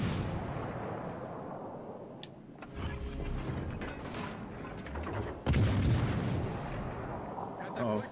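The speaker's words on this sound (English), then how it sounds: "Oh, Flanders shooting at us." The enemy ship Flanders fires its guns in World of Warships Legends: heavy naval gunfire with booming shots, including a loud blast midway, over ongoing battle rumble and mechanical noise.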